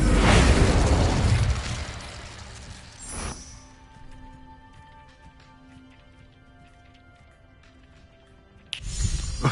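Fiery spell burst in Hogwarts Legacy, a loud explosive whoosh that fades into a low crackling tail with faint ambient game tones, then a second burst at the end.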